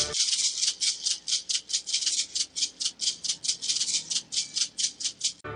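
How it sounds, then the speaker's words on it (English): Orchestral maracas shaken in a steady rhythmic pattern, each crisp rattling burst evenly spaced over several seconds, close and clear with no other sounds. "Maracas."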